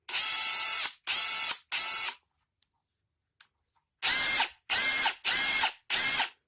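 A Ryobi P238 brushless impact driver runs unloaded in short bursts, three bursts of whirring and a pause, then four more in an even rhythm. Each burst is loud, close, high-pitched and steady, with near silence between.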